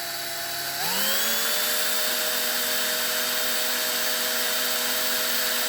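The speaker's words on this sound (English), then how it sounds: "I'm just going to drill down to where that masking tape is" A small power drill spins up with a rising whine and then holds a steady, loud, high-pitched drone while boring into a post on a Matchbox No11 scaffolding truck model, running continuously close by.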